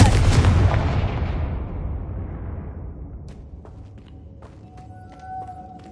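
A Confringo blasting curse from the Hogwarts Legacy video game bursts at the start, a loud booming blast that decays over several seconds into faint rumble, with small scattered clicks and tones afterward.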